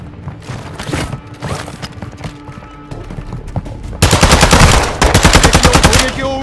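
Rapid automatic gunfire rattles in a Call of Duty: Modern Warfare II DMZ match during an enemy attack, with dense overlapping bursts that grow louder and more continuous partway through.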